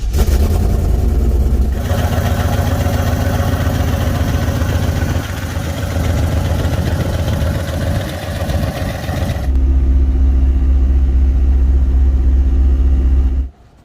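A T-top car's engine starts and runs loud and close, first a rough cranking roar, then a steady idle with slight variations, and finally shuts off abruptly near the end.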